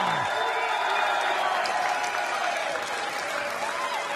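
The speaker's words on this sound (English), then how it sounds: "please keep your applause going for Jensen Walker!" Sustained applause from a darts championship crowd at Lakeside fills the hall at an even, loud level throughout, with a faint tonal hum underneath and no clear talking.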